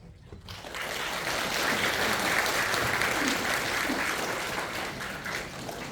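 Sustained applause from a congregation at a pastor ordination ceremony in a church, steady and dense clapping after a brief quiet start, continuing at even strength throughout.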